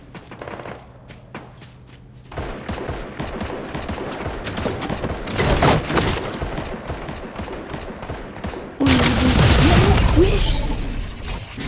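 Gunfire in the video game Fortnite: scattered shots and bursts crackle through a busy game mix, building to loud volleys near the middle and end, with voices talking over it.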